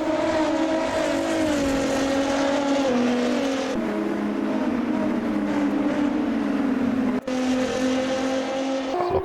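Sprint race cars in the Automobilista 2 racing game, Brazil, roaring in a pack: a loud, continuous engine drone with shifting pitch as several cars run close together, with no pauses throughout.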